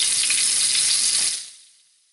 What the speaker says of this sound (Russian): Тефтельки жарим с двух сторон до золотистой корочки.